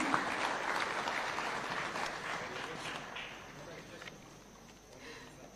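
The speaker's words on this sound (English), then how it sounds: "A round of applause, ladies and gentlemen." Applause from a crowd at a Taxpayers' Day event at State House, Kenya, fairly distant and soft, gradually fading out over several seconds.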